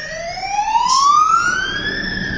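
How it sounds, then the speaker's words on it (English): A fire engine siren wails on a street, one long rising tone that swells steadily, loud and fairly close, with no talking over it. "Yeah, there is a fire engine."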